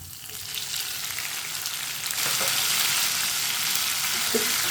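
Lightly browned onions and chopped tomatoes fry in a pan for a bottle gourd curry, giving a steady close sizzle that grows slightly louder as the mixture is stirred, with no talking.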